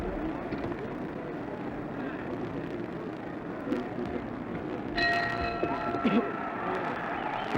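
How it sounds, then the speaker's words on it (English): A boxing ring bell rings for round one at a 1967 heavyweight title fight between Muhammad Ali and Ernie Terrell, sounding as a few clear, bright struck tones over loud arena crowd noise. "The bell for round one."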